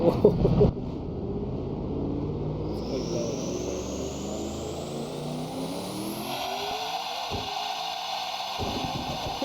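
Engine of the Tim Burton Batmobile in the Assetto Corsa racing game, a deep, loud engine drone with a sharp rev at the start, then steady acceleration as the pitch climbs and shifts through gears.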